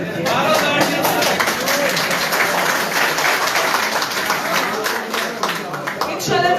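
An audience at a political gathering in Abbottabad breaks into sustained, dense applause, a steady wash of clapping with voices audible over and within it.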